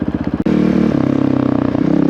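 A Honda CRF450RL dirt bike rumbles through a loud aftermarket exhaust, a sharp blip giving way to a steady, throbbing, close-up idle with rapid pulsing firing beats.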